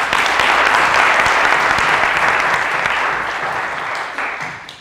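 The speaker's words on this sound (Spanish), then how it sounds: "Damos un aplauso al maestro." An audience at an academic panel applauds steadily, many hands clapping together at once, the sound fading slightly toward the end.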